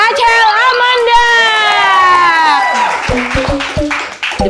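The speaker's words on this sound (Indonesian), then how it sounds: "Beri tepuk tangan untuk Rachel Amanda" A stand-up comedy open-mic audience cheers with a long, rising shrill whoop, then a few sharp claps follow as voices carry on.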